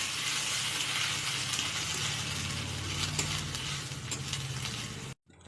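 Panch phoron and ginger fry in hot oil with a steady, close hiss of sizzling that runs unbroken until it cuts off abruptly near the end.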